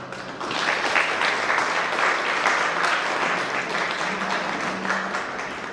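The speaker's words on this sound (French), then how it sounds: "je demande à la salle de l'applaudir fort" An audience claps loudly and steadily in a hall at a Festisol solidarity event in Leuville, the dense applause sustained throughout without a break.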